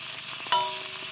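Crab and fish fry in a pan with a steady, close sizzle, broken by one sharp click partway through.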